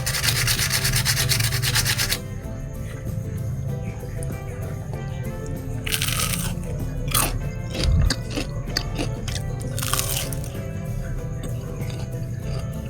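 Crunchy fried tempeh is bitten and chewed up close, with a few crisp, crackling crunches in bursts over a steady background hiss.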